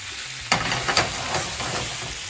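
Saltfish sizzles in a hot pan for Jamaican cook-up saltfish, a close steady frying hiss with a sharp burst as it goes in and a few stirring scrapes.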